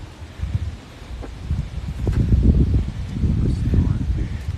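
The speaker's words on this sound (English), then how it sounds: "the wind's coming at us hard, and like it's just swirling" Wind gusting on a golf course, a low rumbling buffet against the microphone that swells and stays steady for several seconds.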